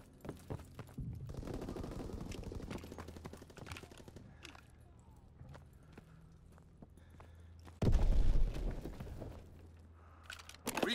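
Gunfire and explosions from a bombing run in the Call of Duty: WWII video game, with rapid bursts of shots, a heavy blast near the end and game voices over the noisy battle.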